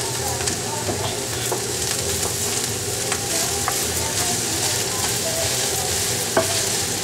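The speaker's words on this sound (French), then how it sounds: "Et on touille, on fait un mélange." Vegetables for achards sizzle and fry in a pan while being stirred, a steady hiss broken by scattered scraping clicks from the spoon, close and continuous.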